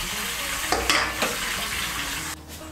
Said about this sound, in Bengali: ঢাকা চাপা দিয়ে মাছগুলো ভেজে নেব। শিং মাছ কিন্তু তেলে দেওয়ার পর তেল ছিটকো।